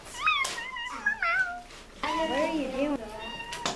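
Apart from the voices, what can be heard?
cat meowing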